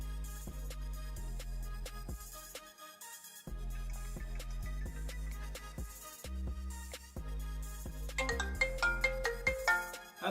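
An iPhone ringtone plays through the phone's speaker during a sound test after being submerged in water: a steady, looping melodic tone pattern with brief gaps, fairly quiet and alone.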